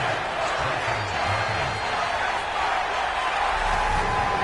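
Stadium crowd in a video game football match murmurs and cheers mildly after an opening-drive field goal by the Lions, a steady distant roar with a commentator speaking over it.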